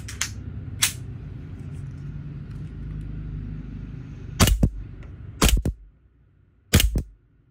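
A DBELL G18C airsoft pistol fires on full auto in several sharp, rapid bursts: two short ones at the start, then three louder volleys, each a few rounds long, separated by pauses with faint background hum.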